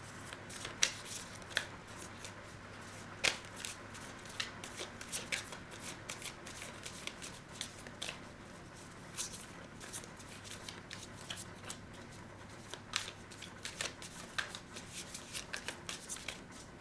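Tarot cards are shuffled by hand in a quiet room, giving repeated soft riffles and crisp flicks with short pauses between bursts. The sound is close and intermittent throughout, with no talking.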